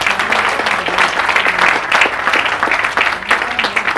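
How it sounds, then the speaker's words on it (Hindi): An audience claps steadily and loudly for the full stretch, a dense, even wash of many hands with no break. "जोरदार जोरदार तालियां।"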